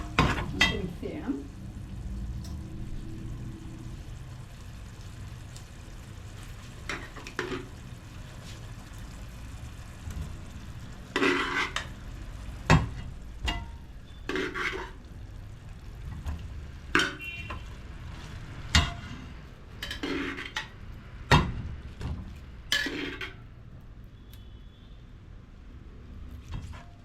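Tomato rice gets stirred in a pan as it cooks, a soft sizzle under a run of intermittent scraping strokes from the spoon, spaced irregularly across the stretch, fairly quiet and close.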